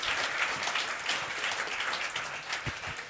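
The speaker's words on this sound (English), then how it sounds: "Let's have a round of applause for you." An audience claps after a presentation, dense and even applause filling the room steadily for a few seconds with no speech over it.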